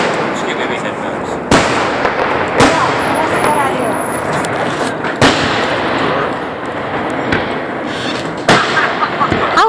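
Loud fireworks over Lake Burton, with repeated booming bursts and crackling over a continuous rumble, while people talk and exclaim nearby.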